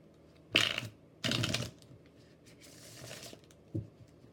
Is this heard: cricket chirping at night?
no